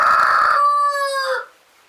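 A free-ranging rooster crows loudly and close by, one drawn-out cock-a-doodle-doo that trails off into quiet, with no clucking or talk evident.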